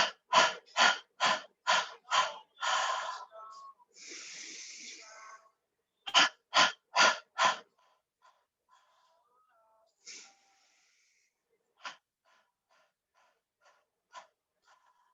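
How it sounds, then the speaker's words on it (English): Rapid series of short, forceful exhaled breath bursts pumped from the stomach during a yoga breathing exercise, two quick rounds of about six sharp puffs each, separated by a long sighing breath, then quiet with soft breaths and small sounds. "we're going to breathe out and do short bursts with our stomach"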